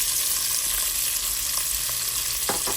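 Peppers and onions cooking in leftover grease for yellow rice: an even, bright crackling sizzle fills the whole stretch, with a couple of light utensil taps near the end.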